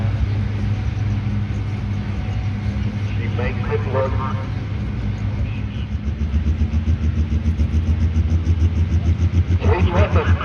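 A race truck at a Weaklands Octoberfest run-what-you-brung event idles with a deep, steady rumble, then the engine revs into a louder, pulsing roar near the end, under an announcer's talk.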